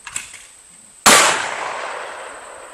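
A single loud shotgun blast at clay target practice, a sharp crack followed by a fading outdoor tail, alone with no talk.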